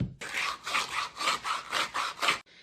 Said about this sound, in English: this is 400 grit for the sanding on both sides and the cleanup